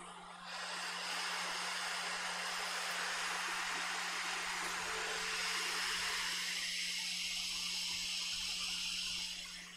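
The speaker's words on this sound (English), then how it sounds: "Hot air on, 450 degrees C, maximum airflow." Hot air rework station blowing at 450 °C and maximum airflow onto a MacBook Air motherboard, a steady close hiss that starts abruptly and runs continuously, with a low constant hum beneath.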